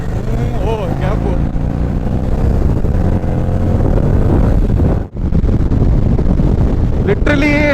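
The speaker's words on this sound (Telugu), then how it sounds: "విండ్ బ్లాస్ట్ అయితే భయంకరంగా ఉంది" Heavy wind buffeting roars over the microphone of a rider on a Harley Davidson Street 750, loud and continuous, with engine drone underneath and a brief dropout near the end.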